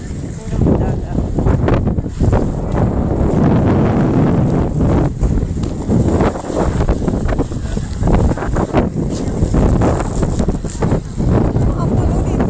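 Strong gusty wind buffets the microphone on a sea dike by the open sea, a loud continuous roar with rough surges and rustling throughout, close and overwhelming.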